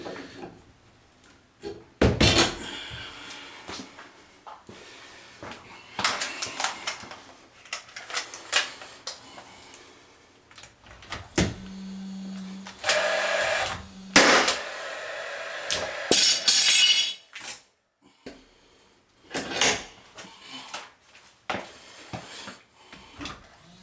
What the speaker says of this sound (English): we're going to sneak in here with the nail gun